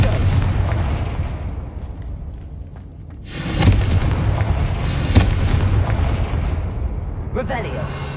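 Confringo fire spell explosions in a video game: two heavy booming blasts, the first at about three seconds and a second shortly after, burst out of a low rumbling background, with a faint whoosh near the end.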